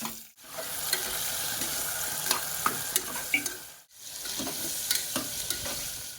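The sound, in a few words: tomatoes frying in oil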